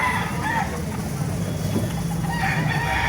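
A rooster crows loudly over a steady background din of other fowl at a poultry market in Baliuag, with a second crow starting near the end.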